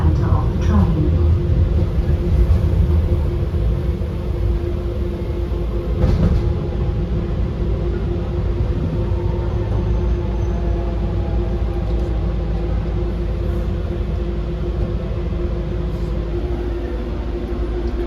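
A DLR B92 stock train runs from Lewisham toward Bank in East London. A steady, loud interior rumble carries through the whole clip, with brief louder jolts and intermittent voices over it.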